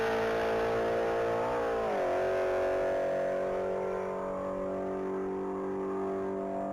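A gray 2022 Ford Mustang Mach 1 races at top speed on a mile-long course, its steady, loud engine drone rising in pitch and then shifting to a new tone about two seconds in before holding on.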